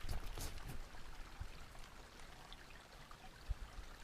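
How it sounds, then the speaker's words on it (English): Faint, steady trickle and pour of water from a Sawyer Mini squeeze filter bag into a Camelback reservoir at a wilderness camp, soft and close with small drip-like splashes. "water filtering."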